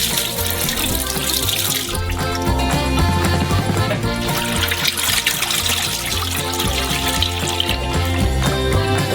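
3.4 liters of milk poured into a huge saucepan for a giant Korean castella sponge cake: a continuous liquid splashing and trickling under loud background music.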